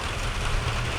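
Rain falls steadily on a garden in late summer in zone 9b, a dense, even hiss of drops with no voices over it.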